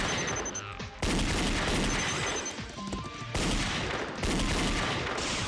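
Gunfire in the video game Danganronpa Another, dense bursts of rapid shots and fusillades filling the whole stretch, loud and continuous with brief pauses, mixed with other game effects.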